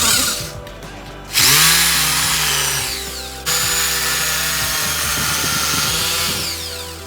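A hammer drill bores holes near a door frame for termite treatment, whining loudly in two long sustained bursts with a short pause between, close by and without speech.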